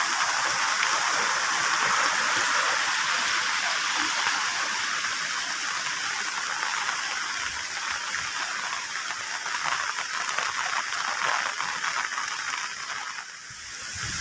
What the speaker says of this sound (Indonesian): Seperti ini hujan angin ya di kampung Lur.